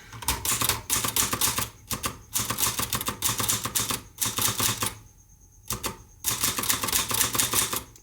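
An Olivetti Lettera 22 manual typewriter clatters with rapid, loud keystrokes in bursts, with short pauses and a ringing carriage sound between runs, close up.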